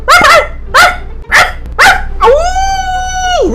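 A person's voice imitates a dog, giving four sharp, loud bark-like yelps in quick succession and then a drawn-out, wavering howl, all close and alone without other talk.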